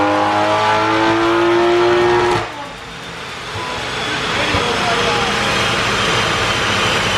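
A big-turbo 2020 Toyota Supra revs hard with a loud, near tone, then cuts off sharply into a burst of crackling exhaust pops and rumbling that carries on to the end.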